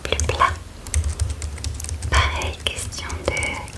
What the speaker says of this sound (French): On met un clavier au plus plat.